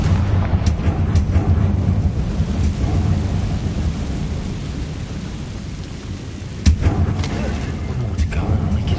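A Confringo blasting-spell explosion in the Hogwarts Legacy video game rolls out as a loud, deep rumbling roar, with a sharp, crackling burst near the end.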